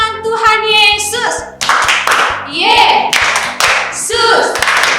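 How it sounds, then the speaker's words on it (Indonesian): Children at an online church service for kids clap in a steady rhythm while voices chant Jesus's name, each sharp, close clap landing on a regular beat beneath the chanting. "mari kita tepuk tangan dan sebut nama Tuhan Yesus 3 kali"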